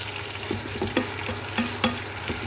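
Onions sauté for squid adobo, a continuous close sizzle with regular scraping and clacking stirs against the pan, no voices.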